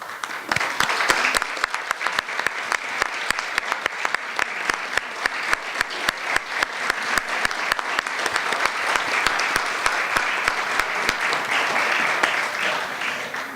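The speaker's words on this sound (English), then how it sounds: "please standing so we can give you a round of applause" A room audience at an event on DACA and immigration policy applauds, a sustained round of clapping with sharp, distinct claps close by over a dense crowd wash, lasting well over ten seconds.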